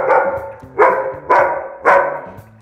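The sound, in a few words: dogs barking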